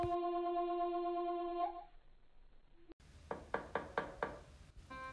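Five firm knocks on a wooden door in a bedtime fairy-tale recording, close, loud and evenly spaced, following a fading sustained musical tone and a brief pause.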